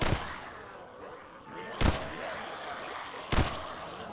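Three sharp gunshots ring out in the zombie video game VEIN, spaced roughly a second and a half apart over a steady background of game ambience.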